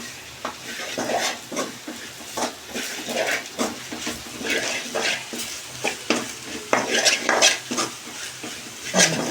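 Soybean curry masala is stirred briskly in a pan, with frequent close scrapes and clinks of the spoon over a continuous frying sizzle.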